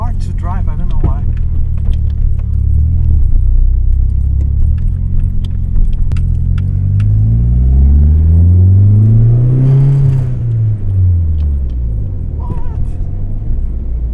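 A Nissan 200SX S13 being driven, its engine rumbling steadily and rising and falling as it revs, heard from inside the cabin with keys jangling and a person talking over it.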